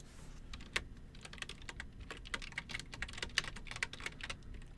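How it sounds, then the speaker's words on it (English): Fast, uneven clatter of keys on a computer keyboard as someone types a chat message, with bursts of sharp clicks and louder keystrokes throughout, fairly close and heard alone. "Here I am typing in the chat."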